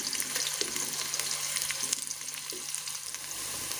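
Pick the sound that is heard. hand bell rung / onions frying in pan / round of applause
onions frying in pan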